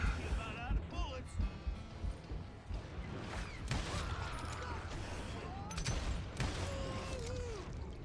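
Gunfire rings out in the game Call of Juarez: Gunslinger as scattered sharp shots and a fusillade crack through a busy mix of game sounds, with someone talking over the action.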